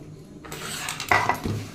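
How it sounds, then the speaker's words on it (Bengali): A plate is picked up from a stack of kitchen dishes, giving a short burst of close clattering and clinking of crockery and utensils against one another, with no talking. "দাঁড়াও থালাটা নিয়ে আসি"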